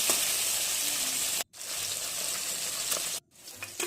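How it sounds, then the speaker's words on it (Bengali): Fish sizzling and frying in hot oil in a kadai over a gas flame, a steady loud crackling hiss interrupted twice by brief silences as the pieces are turned over. "ভালো করে উল্টে পাল্টে ভেজে নেব এখন লাল লাল করে।"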